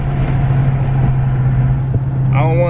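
A deep, steady engine rumble drones close by, a low idling exhaust hum from a Dodge Charger Scat Pack, with a voice starting to speak at the very end.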